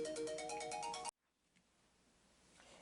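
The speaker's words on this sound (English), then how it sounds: "of course, the phone rang" A phone ringtone plays loudly in a repeating melodic pattern for about a second before cutting off abruptly, followed by quiet room noise.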